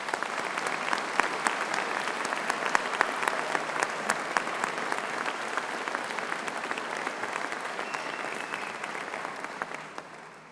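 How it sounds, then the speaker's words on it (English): A graduation audience gives conservatoire musicians a warm round of applause, with dense, steady clapping throughout that thins out near the end. "Please join me in giving them a warm round of applause."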